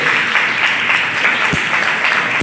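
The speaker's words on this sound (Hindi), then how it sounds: "तो पीछे वाले भी तालियां बजा सकते हैं" A room full of people at a team session breaks into loud, continuous applause, a thick steady roar of clapping hands filling the whole stretch with no pause.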